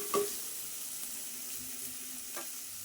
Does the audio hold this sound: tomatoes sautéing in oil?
yes